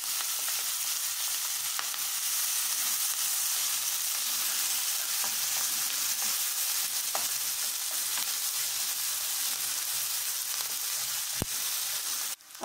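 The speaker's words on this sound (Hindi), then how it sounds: "इसमें 4 सूखा मिर्च डाल देंगे, इसमें प्याज डाल देंगे और थोड़ा भून लेंगे" Onions frying in a pan with fenugreek, hing, cumin and dried chillies, giving a steady, dense sizzle throughout with faint stirring clicks and one sharp knock near the end.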